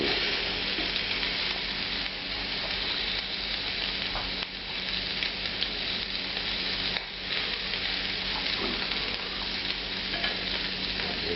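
Shrimp searing in a pan over extreme high heat, a loud, dense, unbroken sizzle right up close with occasional small pops and shifts as they are moved.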